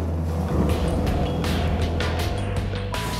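Beneteau Barracuda 8 powered by twin Suzuki 150 hp outboards drones along steadily at close range, low motor hum mixed with hull and water rush, continuous and fairly loud throughout.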